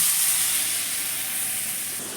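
Mushrooms cooking in a hot pan give off a strong, steady sizzling hiss that fades only slightly over the stretch, with no voices over it.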